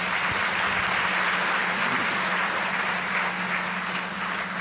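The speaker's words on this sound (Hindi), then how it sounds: "बड़ी हल्की तालियां पड़ गई" A theatre audience at a live stage show gives steady, continuous applause, a dense even patter of many hands with a low steady hum beneath it and no speech over it.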